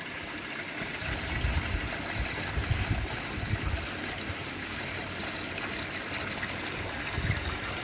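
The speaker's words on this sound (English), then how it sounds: "You can see the water starting to drop in the clay balls." Water drains down through expanded clay balls in an aquaponics grow bed, making a steady, soft trickling and gurgling wash that holds even and continuous throughout with no voices.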